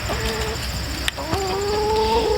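Chickens clucking in a coop bedded with pine, a few soft clucks and calls close by over a steady background hum.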